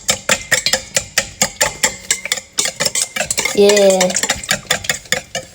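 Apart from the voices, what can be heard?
stirring gluten-free banana muffin batter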